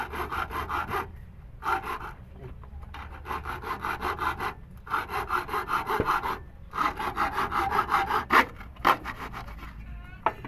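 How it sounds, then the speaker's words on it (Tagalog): A hand saw rasping back and forth through a metal antenna in steady rhythmic strokes, close and scratchy, with brief pauses between runs of strokes. "para hindi kayo mahirapan maglagari ng antena"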